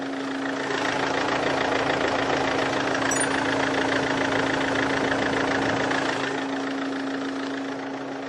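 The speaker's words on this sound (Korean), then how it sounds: "엔진 소리 한번 들려드리도록 할게요" A white Mercedes-Benz diesel sedan idles steadily up close with the hood open, a constant rumbling hum with rapid knocking clatter running unbroken, loud and alone without voices.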